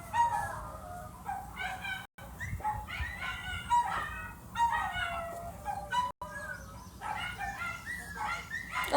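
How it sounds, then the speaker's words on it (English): Outdoor birdsong with chirping and crowing from nearby fowl, mixed with dog barks and whimpers, in uneven bursts across the whole stretch. "Oh, the birds are chirping."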